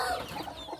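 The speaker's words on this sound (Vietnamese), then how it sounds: "Này ổ gà này xuống có hai con mái này đó" Hens cluck briefly near their nest on a small farm, a short burst of soft, close clucking calls with no speech.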